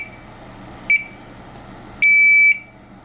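An MSA gas meter gives a short beep, then after a pause a longer, loud steady electronic tone of about half a second as its button is held to shut it off, over faint background hiss.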